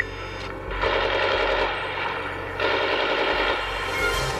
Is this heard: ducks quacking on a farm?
no